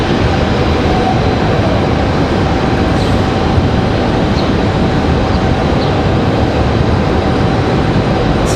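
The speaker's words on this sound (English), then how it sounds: "Got a Delta E175 ready for departure, headed out that way as well." Airliners, including a Delta Embraer E175, taxi for departure at Raleigh-Durham International Airport, producing a loud, steady, close jet-engine roar that continues without pause.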